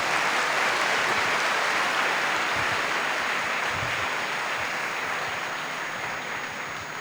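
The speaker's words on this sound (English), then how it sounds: "One more round of applause," An audience at a fireside chat applauds Dr. Shashi Tharoor with steady, dense clapping that stays loud throughout and fades only slightly toward the end.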